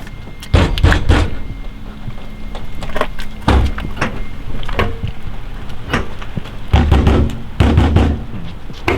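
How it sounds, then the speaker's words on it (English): Several solid thuds of a US Air Force cabover truck door shutting, spaced a few seconds apart, close by, with faint rustling and movement in between. "Dude, the doors close so nice."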